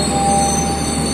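Taksaka passenger train rolling along the rails, a steady loud rumble of wheels and carriage noise with a faint high whine throughout, heard from inside the carriage.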